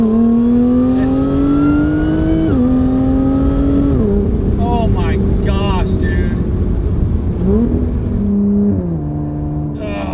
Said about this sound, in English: Listen to this thing. Supercharger, exhaust. Exhaust is on.